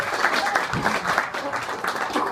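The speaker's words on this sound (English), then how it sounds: "Big round of applause." A comedy club audience at Giggles gives a round of applause, producing a dense, continuous roar of clapping with some crowd voices mixed in, loud and close.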